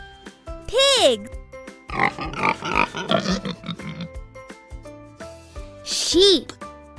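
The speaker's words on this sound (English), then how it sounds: "Pig." Pig grunts and squeals from a farm pig, a few loud bursts alone, with some high squealing calls at the start and end and rougher grunting in between.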